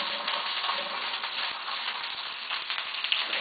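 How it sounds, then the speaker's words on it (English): Black bear meat sears in a hot pan with oil, giving a steady crackling sizzle with scattered small pops, close and moderately loud throughout. "get a pan hot with some oil in it and sear the meat"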